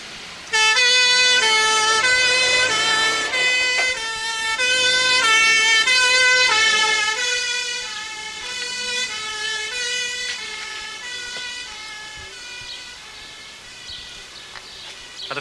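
A loud ambulance siren wails nearby with rising and falling horn-like tones, blaring steadily and then gradually dropping in volume as it moves off.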